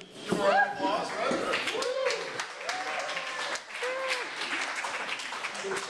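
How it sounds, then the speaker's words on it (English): Audience applause at a chessboxing event in downtown LA, a crowd clapping and cheering beneath loud voices and whoops throughout, lively and close. "give a round of applause"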